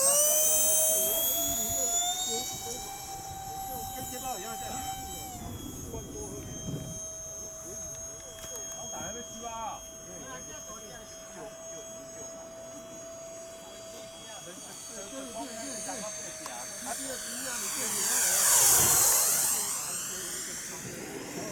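FMS twin 70mm EDF Su-27 model jet at a flying field, its ducted fans whining steadily with tonal harmonics, then swelling to a loud rushing peak near the end as it passes close, with people talking throughout.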